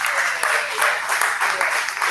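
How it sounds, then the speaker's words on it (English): A comedy roast audience applauds steadily, a dense wash of clapping with some cheering mixed in that holds at full strength for the whole stretch. "Come on, clap it up for Shirtless Mike."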